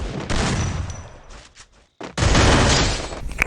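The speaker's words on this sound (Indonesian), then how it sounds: "Berarti game Free Fire seru dong, berarti tembak-tembakan dor-dor gitu." Gunfire from the mobile shooting game Free Fire rattles in dense, rapid bursts like automatic weapons. The firing drops out briefly, then returns loud and close.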